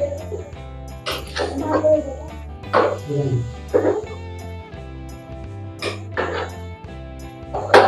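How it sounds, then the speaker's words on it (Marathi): A spoon scrapes and clinks against a pan while raw papaya vegetable from Konkan is stirred and mixed, giving irregular metallic knocks over a low steady hum, with a few sharper clatters. "अशा प्रकारे आपण आता मिक्स करून घेतोय सगळं ती भाजी."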